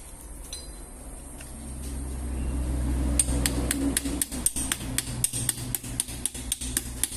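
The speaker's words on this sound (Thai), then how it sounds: "ค้อนที่ปลายด้าน ด้านท้ายมีเป็นยางเคาะลงไป" A rubber-tipped hammer taps piston rings into place on an engine piston, a run of sharp, evenly spaced close knocks following a low steady hum.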